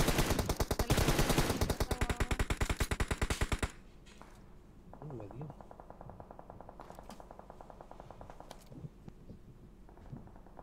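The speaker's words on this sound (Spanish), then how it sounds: "Nada más escuchan los disparos" Rapid machine-gun bursts in the video game PUBG Mobile rattle loudly for several seconds, then stop, leaving quieter game ambience with faint scattered sounds.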